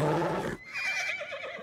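A horse whinnies in a short, loud burst of descending, wavering neighs that fill the clip on their own, with no talk over them.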